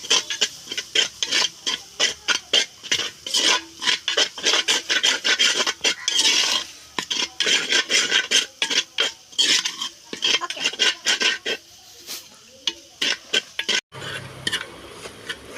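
Spoon scraping and stirring ground pepper, coriander powder and spices with onions in a pan for a Kerala-style roasted-coconut chicken curry, a steady rasping rhythm of close strokes that stops briefly near the end.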